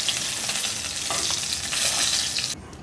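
Rohu fish pieces fry in mustard oil with a dense, steady sizzle and crackle, some scraping of a spatula as the fried fish is lifted, the hiss cutting off abruptly at the end.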